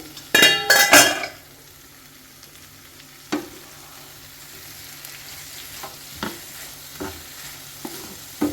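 Fry cooking in a pan on low heat: a burst of clattering metal stirring at the start, then a quiet steady sizzle broken by occasional single scrapes and clinks of a spoon against the pan, close by, no talk.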